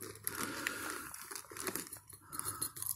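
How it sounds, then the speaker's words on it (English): Crinkly crunching of Cheez-It crackers being eaten inside a black hammock while camping in a rainforest, a steady close rustle and crunch with scattered louder crackles throughout. "There's a crunching sound inside this black hammock."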